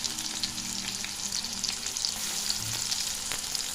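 Onion, ginger and garlic sautéing in a pan, a steady close sizzle with faint stirring scrapes throughout, no voices.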